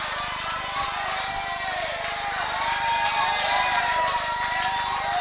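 Crowd noise in a wrestling video game, a steady mid-level roar with scattered rising cheers that swell slightly toward the end and stay continuous throughout.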